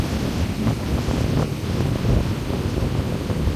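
Rough, turbulent sea waves wash onto the shore in a continuous, close, surging rush, mixed with wind buffeting the microphone.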